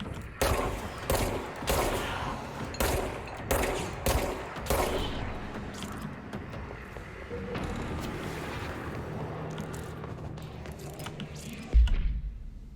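Gunfire in the video game Control, a rapid series of loud, punchy bursts in quick succession at first, then fading into a lower rumbling and mechanical hum with a final sharp thump.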